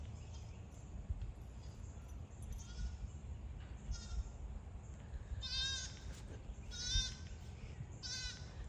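A young goat kid bleats in several short, high, wavering calls that grow louder toward the end, set against quiet outdoor background noise.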